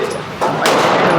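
A 5.56 rifle fired at an outdoor gun range: a loud, close crack that rings out, quickly followed by a second sharp report, with no talk.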